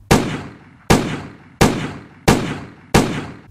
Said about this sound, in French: 5 coups de feu retentissent sur l'aire d'en face.